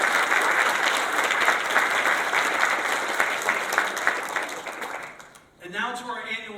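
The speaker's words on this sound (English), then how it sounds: "Can we give them a round of applause?" Loud, dense applause from a breakfast-event audience honoring local Chambers of Commerce, a sustained wash of many hands that fades out near the end, followed by a brief voice over a speaker system.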